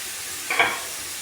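Chicken hits a pan of hot onion paste with a brief soft sizzle and hiss, faint and close, rising for a moment then settling into a low fry.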